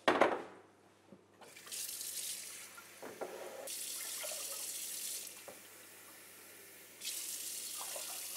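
Tap water runs into a pot, three and a half cups being measured for cooking semolina sweets, a close splashing pour in several bursts with brief pauses between.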